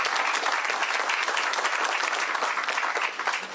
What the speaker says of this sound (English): Give a big round of applause to everybody.